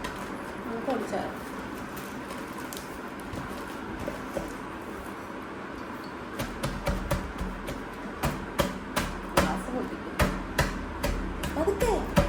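Oreo biscuits crushed inside a ziplock bag, a run of crisp cracking thumps that grows louder and denser in the second half, over a low background murmur.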